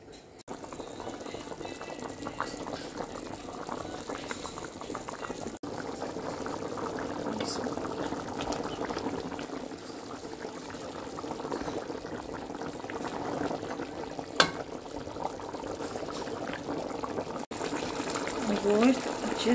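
Meat (Peshawari namkeen gosht) in water bubbling and simmering steadily in an opened pressure cooker, a constant close boil with occasional clinks, a voice speaking faintly under it.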